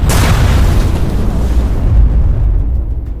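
A massive explosion as a Russian tank is hit by a Ukrainian drone, with flames and ammunition igniting: a loud, deep roaring blast that rumbles on and slowly fades.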